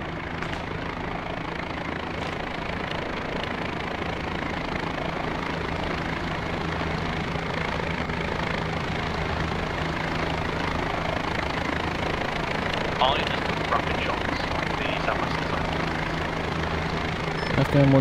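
A military helicopter's rotors and engine roar steadily and loudly throughout during a training exercise, a continuous thumping drone with radio chatter and voices faintly underneath.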